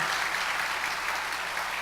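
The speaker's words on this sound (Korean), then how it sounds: "우리 환영합니다, 축복합니다 하는 뜻으로 우리 신랑 신부 박수 한번 해주시겠습니까?" A church congregation applauds a newly married bride and groom during a Sunday service, producing a short, dense, even burst of many hands clapping at once.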